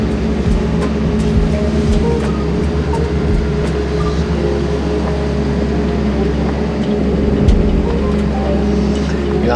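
An old forestry forwarder being test driven, its engine a steady low rumble with rattles and clanks throughout, close and loud.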